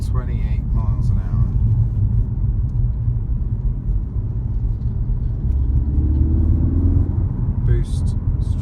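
A Mk3 Ford Focus RS pulls hard in third gear from about 28 mph, its engine note a low, steady rumble that rises in pitch partway through, heard from inside the car.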